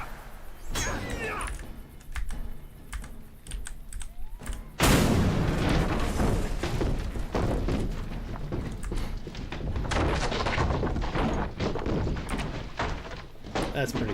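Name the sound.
siege weapons firing in the video game Lord of the Rings Online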